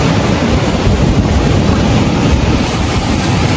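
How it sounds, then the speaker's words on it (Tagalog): Big sea waves rolling onto the shore at Bagac, heard as a steady, loud wash of surf and wind noise that holds for the whole stretch, with no voices. "Malaki alon."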